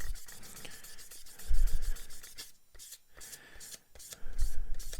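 A polishing stick sanding a dried paint finish, giving a close, quick back-and-forth scratchy rubbing in short repeated strokes, with a couple of brief pauses.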